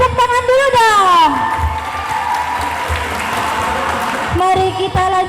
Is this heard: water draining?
no